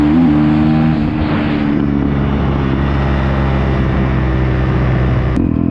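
A 2020 Kawasaki KX125 two-stroke dirt bike with new upgrades runs steadily while riding, its loud, buzzing engine droning close and continuous throughout with no talk over it.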